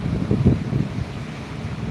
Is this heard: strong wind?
yes